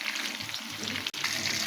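Chicken pieces fry in a hot pan for egg jali kabab, giving a steady, dense sizzle with light crackle that cuts out for a split second, then resumes at the same level.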